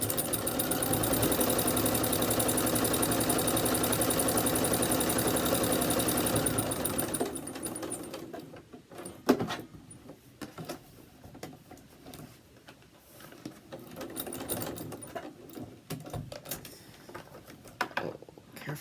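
Sewing machine top stitching a fabric face mask ear saver, a steady, close whirring run that ends after several seconds, followed by quieter handling clicks and fabric rustles.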